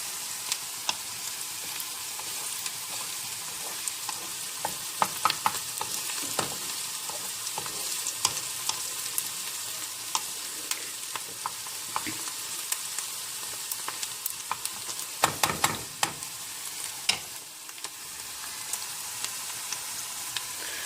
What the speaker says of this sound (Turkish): soğanlarımız yağda biraz dönmesi gerekiyor diri kalmaması gerekiyor